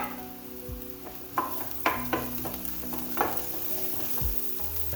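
Vegetables sautéing in a pan until translucent, a steady close sizzle with occasional sharper stirring scrapes and clinks throughout.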